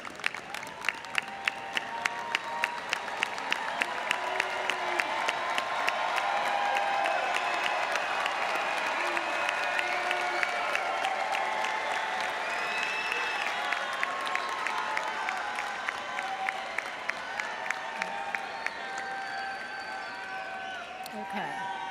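Audience at a University of North Texas business commencement applauding, with rhythmic clapping and crowd murmur filling the hall while voices carry over it throughout.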